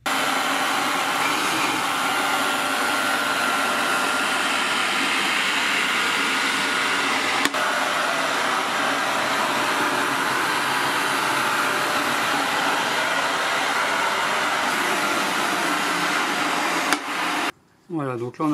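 A Tineco Carpet One carpet cleaner injecting water, suctioning and drying as it moves, its motor a loud, steady whir for about seventeen seconds before cutting off abruptly.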